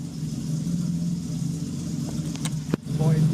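A BMW E30 325i barn find idles while warming up after a slow start, a steady low engine rumble up close, with a brief clunk and a few faint voices near the end.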